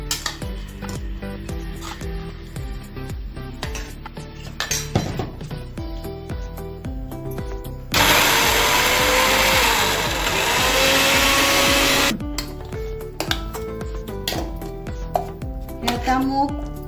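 A kitchen mixer grinder whirs loudly for several seconds as it grinds soaked mung beans with green chillies and garlic, starting abruptly and cutting off, set between quieter kitchen clatter and background music.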